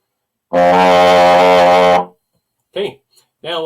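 A trombone holds a single loud, steady note for about a second and a half, played from the far slide positions, sixth and seventh. A brief spoken voice follows after a pause.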